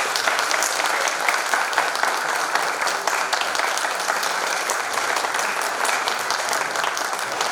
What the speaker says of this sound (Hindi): आप लोगों के जोरदार तालियों के साथ।